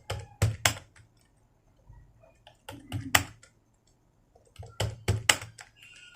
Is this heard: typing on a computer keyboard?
yes